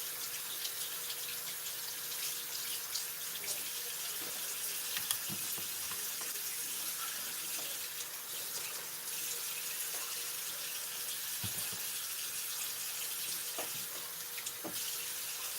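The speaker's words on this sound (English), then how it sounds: "There's a couple pieces here that have a little bit of stuff on them I want to rinse off real quick." A kitchen tap runs into a sink while a salmon fillet is rinsed, a steady close splash and hiss with small knocks and shifts in the flow, no voices.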